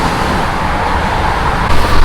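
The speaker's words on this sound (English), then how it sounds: "You can sort of hear the cars here" Road traffic near a beach campsite on Maui produces a loud, continuous broadband roar, with a heavier passing vehicle swelling in the last half second.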